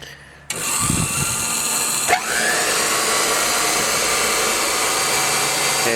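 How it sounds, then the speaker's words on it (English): A bench grinder whirs up sharply and holds a steady high whine as Willys engine parts are pressed against the side of the grinding stone, with a brief scrape of contact partway through, loud and near. "you really shouldn't be running on the side of the stone, but this is the best way I could figure out to grind these things"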